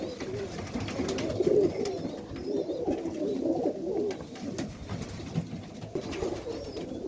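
Pigeons coo steadily in a breeding loft of Serbian highflyers at night, a soft continuous murmur of overlapping low coos close by with no talking.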